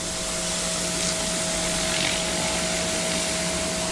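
A turbo head cleaner washing the outside surface of an Australian farmhouse, a loud, steady, hissing motor whine with a constant tone, close and uninterrupted.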